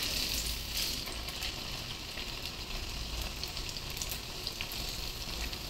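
Sabudana vada deep-frying in oil over medium heat, a dense, steady sizzle and bubbling that holds at an even level throughout with no voices.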